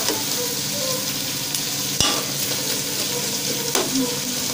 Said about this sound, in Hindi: हम लोग फ्राई कर लेंगे जब तक गोल्डन ना हो।